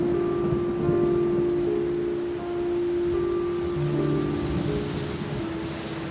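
Heavy rain pouring steadily as a dense, unbroken hiss, loud and close, with a low tonal hum running underneath throughout.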